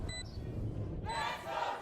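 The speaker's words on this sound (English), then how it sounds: "Crowd getting loud for the home team here." Arena crowd at a Valorant Game Changers esports match between SR and G2 Gozen swells into loud, sustained cheering, with brief electronic beeps from the game early on.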